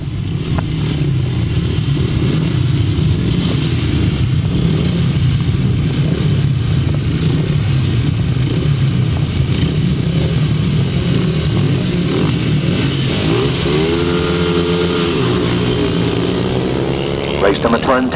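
Motorcycles in a 350cc heat at a grasstrack race roar continuously at a distance, engines droning and revving under steady loud crowd and announcer chatter, with one bike's rising whine standing out near the end.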